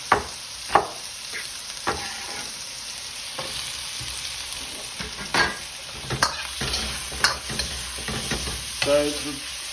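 Square-cut onion stirred and frying in a pan gives a steady sizzle under repeated scraping and clacking strokes of the spoon. The sound is close and alone, with no talking.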